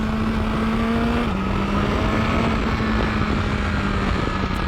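A BMW S1000XR motorcycle pulls hard in first gear, its engine holding a loud, steady high-revving drone with a brief dip in pitch partway through, all under heavy wind rush on the microphone.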